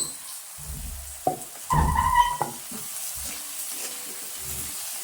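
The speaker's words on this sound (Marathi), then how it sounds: "आणि आता हा कांदा असा ब्राऊन होईपर्यंत परतवून घ्यायचा आहे." Two large chopped onions sauté in a pan, giving a low hiss of frying broken by a few short bursts of stirring and scraping nearby.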